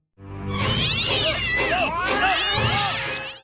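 Cartoon cats from a South Park episode yowl and caterwaul fiercely while attacking, a loud, continuous chorus of screeching meows lasting a few seconds.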